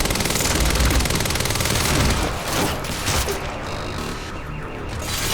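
Rapid automatic gunfire and impacts from the video game Quantum Break form a dense, loud, continuous barrage, with crashes and a slight easing toward the end.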